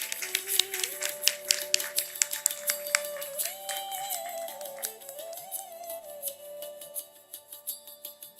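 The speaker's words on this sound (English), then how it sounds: "Can we have a huge round of applause for the dignitaries?" Applause from an audience at a university chemistry seminar on palm oil nutrition, honouring the dignitaries: a steady patter of many hands clapping at moderate distance, faint and filling the room for several seconds, with no talk over it.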